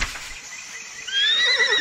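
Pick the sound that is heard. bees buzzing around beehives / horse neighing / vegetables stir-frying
horse neighing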